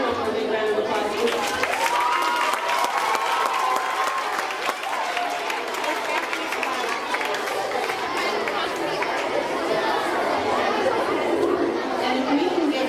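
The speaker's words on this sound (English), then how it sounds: "Can we give him one more big round of applause" An audience at a fifth-grade school awards ceremony claps steadily for an honoree, a sustained wash of applause mixed with crowd chatter and scattered voices throughout.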